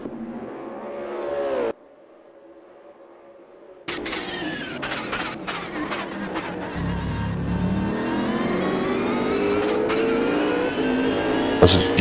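Race cars on a circuit during a winter-season race, a sustained engine drone rising in pitch as they accelerate, with whines and passing roars after a brief quiet gap.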